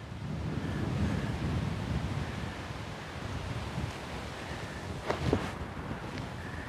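Steady outdoor wind rushes and buffets the microphone during a disc golf round with a NorthStar launcher disc, with a brief louder gust or swish midway; no one speaks.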